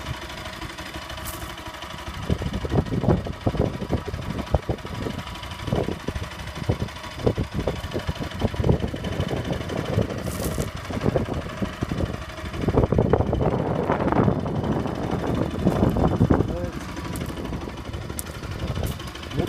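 A Bajaj Pulsar 200RS motorcycle idling just after a cold-morning start, a steady rough mechanical rumble with a faint ticking and wind buffeting against the microphone, no talking.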